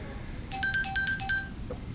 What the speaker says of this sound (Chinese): 不好意思，接个电话啊。